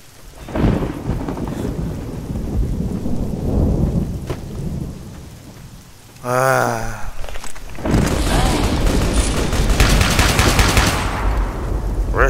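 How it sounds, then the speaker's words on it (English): Heavy rain and a thunderstorm in the video game Fallout New Vegas, set in the Mojave, with a constant rain hiss, loud rolling thunder cracks and a burst of rapid gunfire partway through, and no speech. "Can't believe we're actually getting rain in the Mojave."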